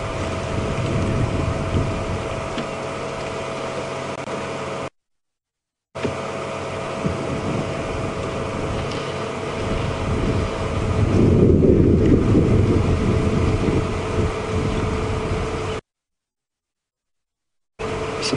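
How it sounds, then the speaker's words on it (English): Wind rushing over the microphone during an afternoon safari drive at Djuma Game Reserve, a steady low roar with gusts, broken by two short gaps of silence. "All we can hear is the gentle rustling of the wind."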